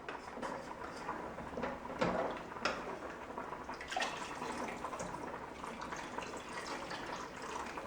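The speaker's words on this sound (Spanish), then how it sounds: "vamos a echar agua. Con mucho cuidado" Water poured carefully into a soup pot while cooking a melloco and cheese soup, a soft continuous splashing and trickling with a few small knocks, fairly quiet and steady.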